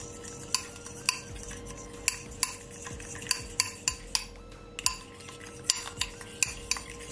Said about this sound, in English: I'm just gonna take my spoon and you just want to mix it all in like so.